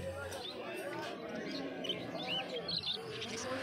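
Caged budgies and finches chirp at a bustling pet market, with bright, scattered twitters rising over continuous crowd chatter and nearby talk throughout.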